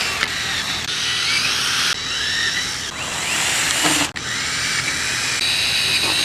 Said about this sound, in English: we're going to drill holes in each one of these pipes